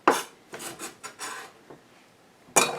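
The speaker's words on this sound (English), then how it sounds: "They're chopping their garlic." Garlic being chopped with a knife in a home kitchen, a handful of close, dry scraping taps in uneven bursts, ending with one sharper stroke.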